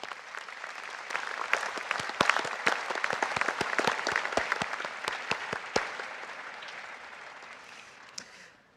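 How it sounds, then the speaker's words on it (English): Applause from an audience at a university ceremony, crisp individual claps rising into a steady wash, then thinning and fading out near the end. "please give yourself another round of applause"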